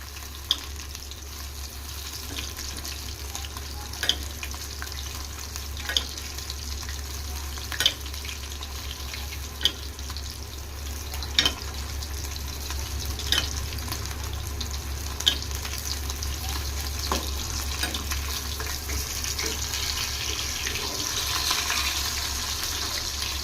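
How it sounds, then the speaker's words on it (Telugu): Fish pieces frying in a pan give a continuous, moderate sizzle, with sharp clicks and taps every few seconds as the pieces are turned. The sound stays close and carries no voices. "ఇది లోపల వరకు బాగా ఫ్రై అవ్వబల్ల, అందుకని తిప్పుకుంటా వేపుకోండి ఫ్రెండ్స్"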